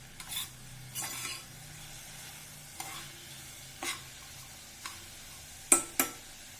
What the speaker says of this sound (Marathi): गॅस मोठा करते आणि परतून घेते